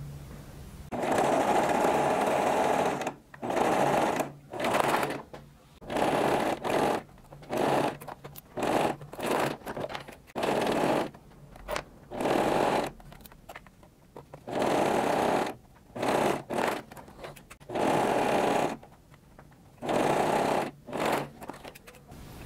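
Sewing machine backstitching fabric for a high-waisted panty with waistband: a close, rapid mechanical whir in repeated short bursts separated by pauses, each burst lasting one to two seconds.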